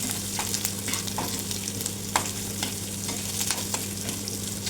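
Cumin seeds and stone flower roast dry in a pan for a homemade onion-garlic masala, a soft continuous sizzle broken by light scraping stirs and occasional crackles, close and steady with no talking.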